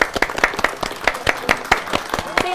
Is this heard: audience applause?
yes